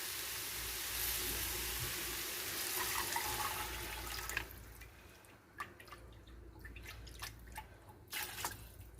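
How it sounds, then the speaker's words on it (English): Stock pours steadily into a pot for yellow split pea soup with smoked turkey tails, a continuous liquid rush for several seconds that thins into scattered drips and splashes, close and fairly quiet. "Here comes the stock."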